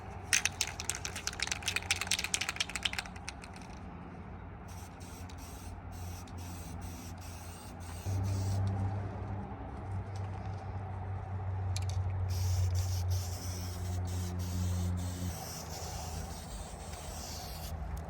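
Spray-can primer is sprayed inside the rear cross brace of a VW Kombi bus. Quick hissing bursts come first, then a quieter stretch of low hum and faint rustling, with no voices.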